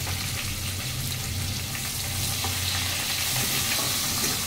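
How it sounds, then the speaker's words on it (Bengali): Black cumin seeds and onions frying in oil in a pan, making a steady, fairly loud sizzle with scraping stirs running underneath and no voices. "আমি ফোড়ন দিয়ে দিচ্ছি কালো জিরে"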